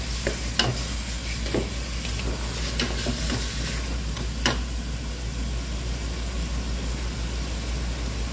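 Chicken adobo sizzles steadily in a hot pan, with a constant frying hiss over a low hum and several sharp scrapes and clacks as the pieces are stirred; no voices.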